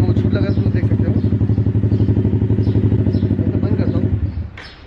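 A motorcycle engine revs close by in pulsing bursts, loud and throaty, then drops off sharply near the end.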